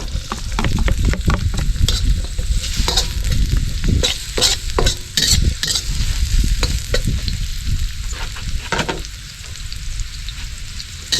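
Garlic and onion sizzle loudly in a hot pan, with steady frying crackle and repeated stirring scrapes throughout.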